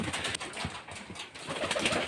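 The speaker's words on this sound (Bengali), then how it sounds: "আমার ভালোবাসার কবুতরগুলা দেখার জন্য ওদেরকে কিছু খাবার দিলাম" Pet pigeons coo softly at a farm, low throaty murmurs repeating over a steady background hiss, fairly faint and with no talk.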